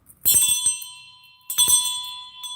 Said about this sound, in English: Brass bell, really nice ringer.